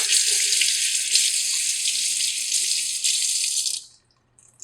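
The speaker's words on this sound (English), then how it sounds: "form the bristles back into the shape they should be in, and then rinse" Steady stream from a sink tap running over a paintbrush as the bristles are rinsed, a loud continuous hiss that stops abruptly near the end, leaving near silence.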